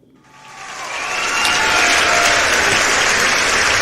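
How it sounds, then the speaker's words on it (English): Applause from a crowd, played back from a recording, swells up from near silence over the first second and a half, then holds as a loud, dense, steady wash of clapping with no voices. "The applause is for yourself."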